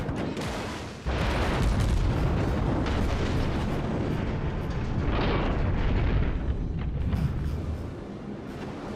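Heavy naval guns firing armour-piercing rounds in World of Warships, from a Japanese Tier V Minekaze destroyer, make a loud, sustained booming rumble with overlapping blasts that swell and fade across the stretch.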